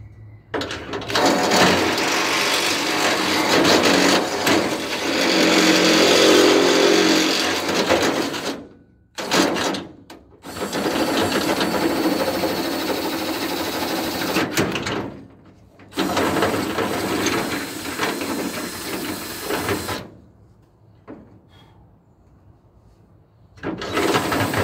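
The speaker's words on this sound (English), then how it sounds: "let's drill this one out too" A power drill drills out a part on a 1976 Ford F250 in loud grinding whirring runs of several seconds, broken by short pauses, with a final stretch of near quiet at the end.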